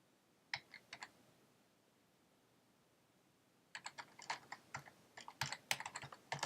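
A password being typed on a computer keyboard: a few soft key clicks, a pause, then a quick run of close, quiet keystrokes.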